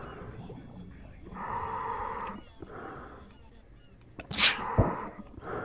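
A single sharp sneeze close to the microphone near the end, after muffled voices and breathy noise.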